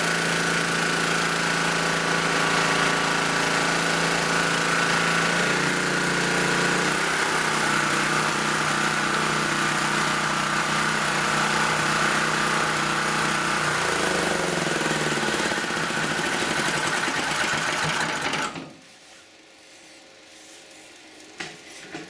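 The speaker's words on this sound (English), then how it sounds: "I think it's going to be a good little generator" A small portable generator engine chugs steadily and loudly with a buzzy mechanical drone, its pitch shifting slightly, then cuts off abruptly, leaving quiet background noise.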